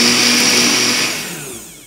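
An electric blender grinds a spice and cumin mixture into a paste for a Kerala tomato curry, whining loudly and steadily before the motor spins down and fades.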